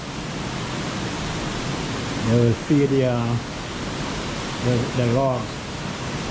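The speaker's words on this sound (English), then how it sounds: "You can hear the water running down." Water runs down through a water-powered sawmill in a continuous broadband rush, with someone briefly speaking twice over the steady flow.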